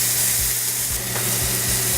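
Fish, just flipped in a pan with a spoonful of sauce, sizzles and fries loudly and continuously, with a faint stirring scrape in the background.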